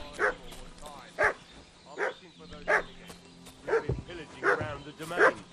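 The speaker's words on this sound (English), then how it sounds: "What's that dog making such a fuss about?" A dog barks repeatedly in Kingdom Come: Deliverance 2, sharp woofs coming about once a second over a low game ambience, with a voice speaking briefly between barks.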